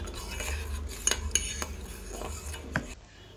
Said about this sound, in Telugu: ఇప్పుడు గ్యాస్ ఆఫ్ చేసేసుకొని గిన్నెని కిందకి పెట్టుకోవాలి